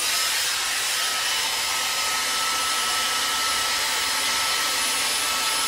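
A Dyson Airwrap hair styler runs at low speed while styling a lock of hair, giving a steady, even airflow whoosh that holds at constant level for the whole stretch with no talking.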